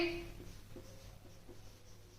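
Faint scratchy strokes of writing out values during a simple interest maths lesson, a few soft, evenly spaced marks over a low steady background hum.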